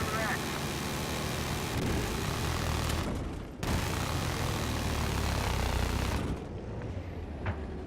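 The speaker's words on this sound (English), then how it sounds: "There's a helicopter out there." A loud, continuous helicopter engine drone dominates throughout, briefly cutting out midway before resuming, with faint voices underneath.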